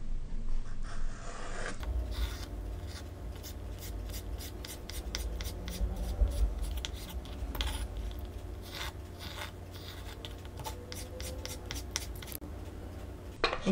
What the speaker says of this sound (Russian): Селедку режем небольшими кубиками.